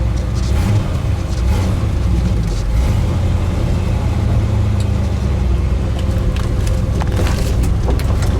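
The V8 engine of a 1965 Chevrolet Malibu convertible with a close-ratio Muncie gearbox idles in a steady, deep, loud rumble close by, with no voices over it.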